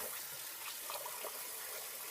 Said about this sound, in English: put cold water on my face